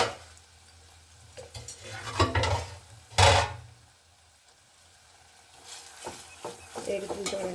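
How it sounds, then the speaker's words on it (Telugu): Curry leaves crackle and sizzle in hot oil while a chutney tempering is stirred, with bursts of spattering and a few clinks of a utensil against the pan, close up. "కరివేపాకు వేగుతుంది చూడండి, చిట్చిట చిట్చిట ఉంటుంది"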